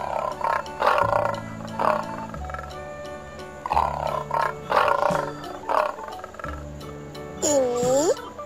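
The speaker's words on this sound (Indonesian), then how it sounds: "Ini singa." Lion roaring in repeated deep, grunting bursts with rumbling low tones, several throaty calls spaced through the clip alongside a brighter sweeping animal cry near the end.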